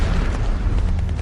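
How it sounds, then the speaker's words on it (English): A loud, dense roar of battle explosions fills the whole moment, a continuous rumbling blast with deep low-end weight and no clear gaps between bursts. "Explosions everywhere."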